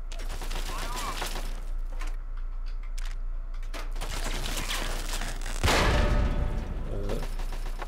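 Fallout 3 combat with scattered gunfire throughout and a heavy grenade blast near the end, dense and continuous, with a voice briefly speaking over it.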